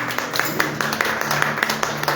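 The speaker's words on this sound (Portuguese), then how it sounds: "Sempre dá uma salva de palmas bem alegre para Deus." A church congregation claps together in steady, lively applause, with many hands sounding at once in a reverberant room.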